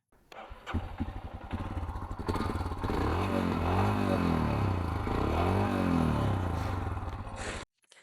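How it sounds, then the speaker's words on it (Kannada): A Royal Enfield Himalayan BS4 single-cylinder motorcycle with a long exhaust thumps steadily, revving up and down in a deep, loud, close rumble for several seconds before cutting off abruptly. "ಎಕ್ಸಾಸ್ಟ್ ಸೌಂಡ್ ಕೇಳಿಸ್ತೀನಿ ಬನ್ನಿ"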